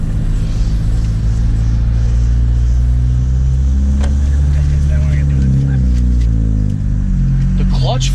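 A 2012 Honda Civic Si engine runs in a parking lot, a steady loud low drone that shifts pitch as it revs, heard from inside the car with voices talking over it.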